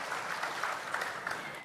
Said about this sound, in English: let's now welcome Supreme Master Ching Hai with a warm round of applause